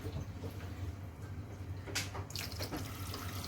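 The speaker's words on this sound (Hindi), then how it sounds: "तो दोबारा से इसके अंदर मैं पानी डालती हूँ।" Water pours into a cooking pot of egg kofta curry: a continuous broad splashing wash with a few brighter surges near the middle, close and steady, with no talking.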